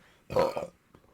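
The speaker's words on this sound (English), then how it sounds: "Hold on, I got a burp." A single close, loud human burp lasting about half a second, followed by a faint trailing sound.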